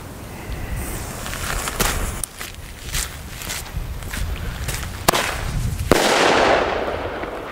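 Firework shell tubes (Epic Shocks, Sniper Shocks, Thunder King, Aftershock) burst outdoors in a fast, uneven series of sharp cracks and bangs, a louder blast near the end giving way to a crackling wash.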